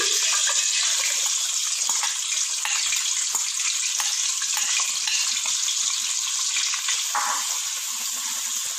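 Steady, loud sizzling and crackling of onions frying in hot ghee for white biryani, a continuous hiss with small pops throughout and no talking.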